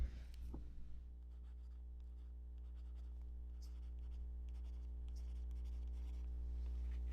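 A ballpoint pen tool scratches across the screen of a reMarkable Paper Pro e-ink tablet, a faint, continuous rustle of nib on textured surface with short strokes and pauses, over a low steady hum.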